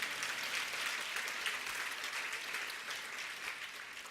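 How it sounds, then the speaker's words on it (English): A school awards ceremony audience claps steadily for a top senior runner-up, a dense, even wash of applause heard from a distance with no voices over it. "You can applaud that."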